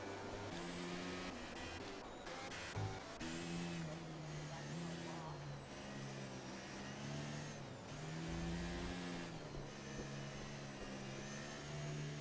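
Race car engines in a racing video game, a wet-weather round at Japan, drone steadily under the whole stretch with rising and falling revving tones, mixed low beneath other game sounds.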